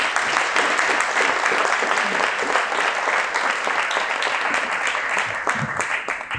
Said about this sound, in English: Please welcome Jennifer with a round of applause.